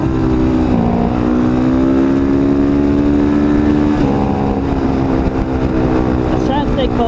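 An Apollo RFZ Chinese dirt bike engine drones steadily while being ridden, a loud continuous buzzing tone that dips and rises slightly with throttle, wind and road noise mixed in throughout.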